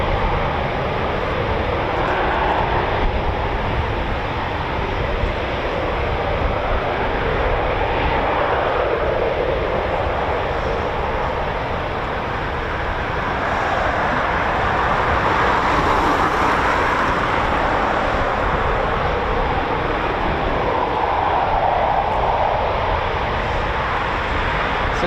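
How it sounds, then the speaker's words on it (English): Saab Gripen jets of the Swedish Air Force at RAF Coningsby, a steady, loud roar of jet engines that swells gently and fades over about 25 seconds, with no talk. "2 RAF Gripens of the Swedish Air Force"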